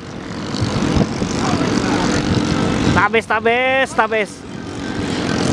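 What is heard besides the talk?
racing boat engine at full throttle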